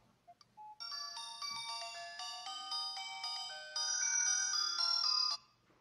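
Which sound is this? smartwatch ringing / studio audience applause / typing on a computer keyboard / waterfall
smartwatch ringing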